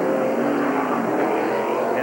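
A 1996 NASCAR stock car roars out of the pits at South Boston, a loud, steady engine drone held close throughout, with a race commentator talking over it.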